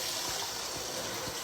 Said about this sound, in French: on va ajouter un petit peu d'eau.